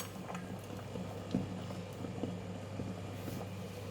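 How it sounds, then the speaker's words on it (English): Water boiling vigorously in a pot with herbs, ready for cooking prawns: a steady bubbling rumble with occasional pops, close and even throughout, no voices. "I need the water to boil very vigorously before I put in the prawns."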